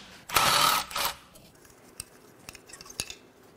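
A ratchet clicks as it loosens a 10 mm bolt on a Toyota 4Runner 1GR-FE 4.0 V6 engine. A loud burst of rapid ratcheting comes first, followed by a few sparse metallic clicks and taps.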